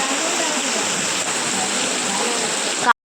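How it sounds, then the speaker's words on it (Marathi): Heavy rain pours down in a loud, dense, steady hiss that stops abruptly near the end. "आत्ता पडायला लागलाय जोरात पाऊस"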